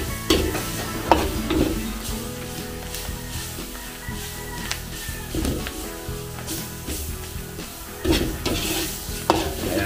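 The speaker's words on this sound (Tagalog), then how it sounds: "Gisa po natin yung ating pork giniling." Ground pork sizzles and fries loudly in a hot pan, with repeated scraping and stirring strokes of a utensil throughout, close and continuous.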